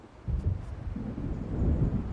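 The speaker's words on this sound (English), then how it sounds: "It seems there's a storm coming." Deep thunder rumbling from an approaching storm in the video game Alan Wake Remastered, a low continuous roll swelling and lingering throughout, with no talk.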